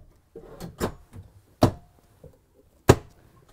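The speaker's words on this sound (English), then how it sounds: "You get a couple drawers." Drawers in a Newmar Baystar Sport 3307 motorhome sliding and knocking shut, several sharp wooden thunks spaced out over a few seconds, close and clear in a quiet interior.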